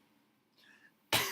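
A person reading a children's story aloud makes a single short, loud imitated cough near the end, after a quiet breathy pause.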